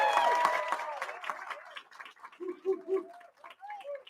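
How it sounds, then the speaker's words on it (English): Conference audience at LeakCon 2019 applauding at the start of the first day, with cheering and whoops over the clapping that soon thins into scattered claps and voices. "Give yourselves a big round of applause."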